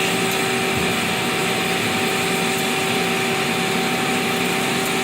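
An automatic saw's feed vice runs to measure out one inch of stock, giving a loud, steady mechanical hum with sustained tonal whine that holds constant throughout, with no voices.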